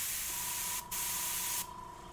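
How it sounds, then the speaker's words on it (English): Spray paint hissing over a stencil for custom tags, applied lightly from a distance in two steady bursts with a brief pause between them, close and fairly loud. "I'm gonna do it from a distance and I'm gonna do it real light."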